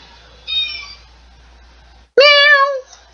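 A cat meows twice in the video game Lone Survivor, first a short, fainter mew, then after a silent pause a louder, closer, drawn-out meow standing alone.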